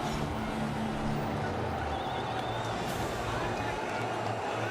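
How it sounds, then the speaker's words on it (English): Cricket stadium crowd in Pakistan vs Sri Lanka match buzzing after a boundary, a steady dense roar of many voices filling the ground throughout, with a commentator's voice over it. "Crowd are buzzing that bit more."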